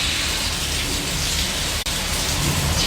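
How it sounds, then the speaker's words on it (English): Steady, dense rain hissing continuously, a full wash of noise close by with no voices and barely any break. "it's raining"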